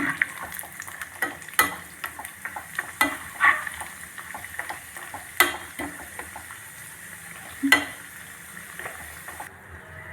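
Cashew nuts fry in a pan to golden colour, a steady low sizzle broken by repeated sharp stirring scrapes and taps of a spoon against the metal, close and moderately loud.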